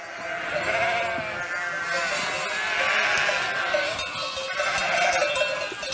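Sheep bleat continuously from a flock at a sheepfold in the Drôme, many overlapping voices close by and fairly loud, with a faint cowbell-like clank mixed in.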